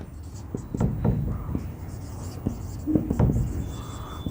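Marker or chalk scratching words onto a board in a classroom, a run of short irregular strokes close by, with faint background murmur and a brief whisper-like breath.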